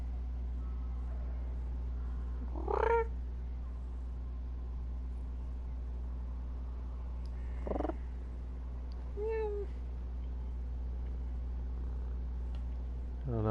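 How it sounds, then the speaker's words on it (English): A pet cat named Lily purrs up close as a steady low rumble, broken by a few short, rising chirpy meows. "I don't know if you can hear her purring."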